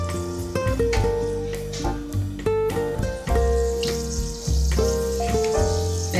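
Fenugreek seeds sizzling and crackling in hot oil, a dense, steady frying hiss with a few tonal scraping sounds over it.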